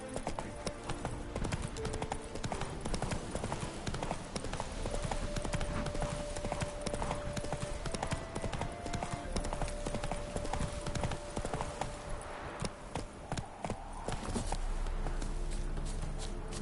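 Horse hooves clip-clopping steadily in The Witcher 3, a continuous rhythmic trot close up and fairly loud, with game ambience and a faint tone running beneath.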